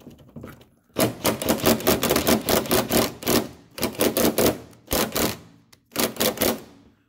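A ratchet socket wrench with a 3/8 socket turns a bolt on a 2003 Toyota Corolla exhaust heat shield, giving rapid close clicking in several quick bursts separated by brief pauses.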